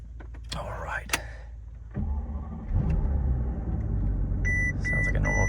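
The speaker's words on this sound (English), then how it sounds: "Sounds like a normal V12 starting." A Mercedes S600 twin-turbo V12 with a misfire starting up: starter whirr and catch, then a steady low idle rumble with the frame resonating, some chimes at the end, quiet and close.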